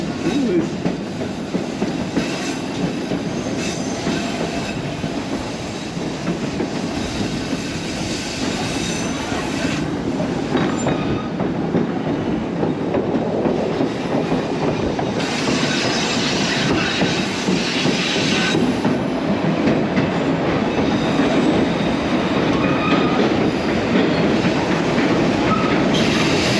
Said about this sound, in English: Oh, there's a train right up there.